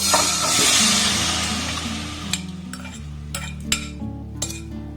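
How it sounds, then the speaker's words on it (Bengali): A mango and rock-sugar mixture tipped into a wok on a lit gas stove gives a loud sizzling hiss that fades. A utensil then clinks and scrapes against the wok several times, with no talking. "এবার দেখুন গ্যাসটা জেলে দিয়ে একটা কড়া বসিয়ে দিয়েছি এবার এই মিষ্টনটাকে কড়ার মধ্যে দিয়ে দেবো"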